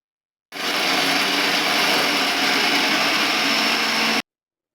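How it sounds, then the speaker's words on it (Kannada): A kitchen mixer grinder whirs loud and steady for about four seconds, blending curry leaves, ginger, garlic and green chillies in its jar, starting and stopping abruptly. "ಒಂದು ಮಿಕ್ಸಿ ಜಾರಿಗೆ ಒಂದು ಸ್ವಲ್ಪ ಕರಿಬೇವು, ಶುಂಠಿ, ಬೆಳ್ಳುಳ್ಳಿ, ಆಮೇಲೆ ಹಸಿಮೆಣ್ಸಿನ್ಕಾಯಿ ಹಾಕಿ ಮಿಕ್ಸಿ ಮಾಡ್ಬೇಕು"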